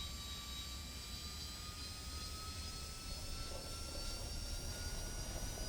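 A jet engine from an aircraft in War Thunder whines steadily at high pitch over a broad, even roar that holds for several seconds at moderate distance, with no talking.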